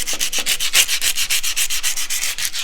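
60 grit sandpaper rubs back and forth on an oiled go-kart motor shaft, a rapid, even rasping rhythm of about fourteen close, loud strokes.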